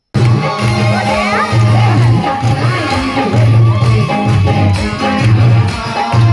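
Dense crowd at the Bhairavgarhi fair, with a loud, constant murmur of many voices under devotional bhajan singing and a steady, rhythmic low drum beat running throughout.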